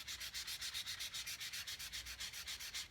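Steady back-and-forth sandpaper strokes rasp against a wooden cigar box guitar body in a quick, even rhythm, close and fairly quiet.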